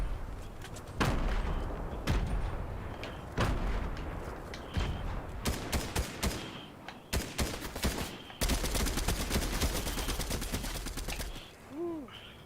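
Gunfire in the video game Fortnite during a sniping fight, a loud rapid series of sharp shots and bursts with short gaps, followed by a quieter electronic tone near the end.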